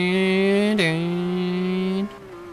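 A race car in Forza Motorsport 5 holds a high, buzzing engine note in second gear, dips briefly as it shifts, then drops off sharply near the end, loud and close.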